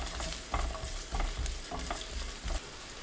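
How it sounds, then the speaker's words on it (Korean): Sliced garlic stir-frying in olive oil over medium-low heat, a soft continuous sizzle broken by regular scraping strokes of a spatula across the pan, fairly quiet and close. "팬에 올리브유 2큰술, 마늘 넣고 중약불로 1분 볶습니다."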